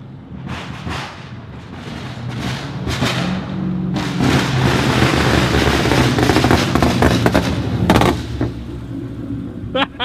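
Exhaust of a Ford S550 Mustang with a Tommy gun tune backfiring and shooting flames on deceleration: loud bursts of rapid, crackling pops like machine-gun fire, coming in waves over engine rumble.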